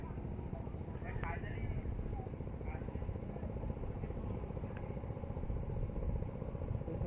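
A guard boat's engine on the river drones steadily and close throughout, a continuous low rumble with faint voices talking over it.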